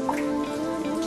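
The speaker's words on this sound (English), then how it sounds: "Can you hear? The rain running through the rills where greenery dreams," Steady rain falls in the Czech Switzerland national park, a continuous, fairly loud wash of drops pattering on surfaces and running through small rills, with no voices.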